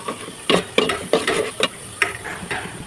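Green chillies and bay leaves frying in a pan are stirred, giving a series of close, loud scraping strokes over a steady sizzle, about six distinct stirs with no talking.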